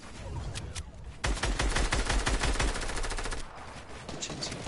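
Rapid bursts of automatic gunfire in a video game played from a rooftop, loud and dense in the middle with sharp repeated shots, then thinner scattered firing toward the end.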